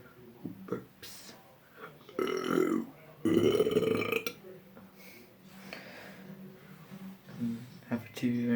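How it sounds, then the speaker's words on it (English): A young boy lets out several long, rumbling burps, one deep and drawn out, with his own chatter and laughter in between. "I'm just a little brother who burps"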